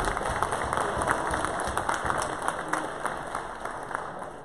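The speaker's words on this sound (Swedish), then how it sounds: "Vi börjar med en applåd, kom igen!" An audience clapping at the Swedish national boxing championships in 2019, a dense burst of applause from a hall crowd lasting a few seconds, with a faint voice underneath.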